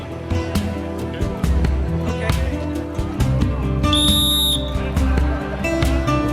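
At the truffle market in Lalbenque, a whistle is blown to announce the start of business. It is one clear, shrill blast lasting under a second, sounding over a steady bed of background music and crowd noise.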